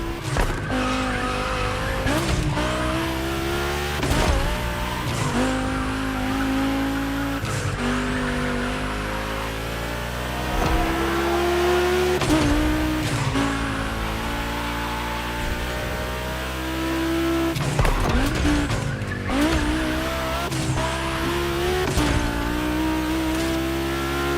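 Volkswagen cars race on a gymkhana track in The Crew Motorfest, with loud engines revving and dropping in repeated surges and sharp tire squeals and skids recurring across the run.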